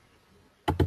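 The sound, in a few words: typing on a computer keyboard in Excel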